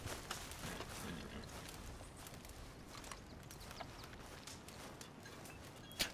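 Horse hooves clip-clop steadily in the video game Red Dead Redemption 2, a continuous soft patter of footfalls under low ambient background, with a slightly louder thump near the end.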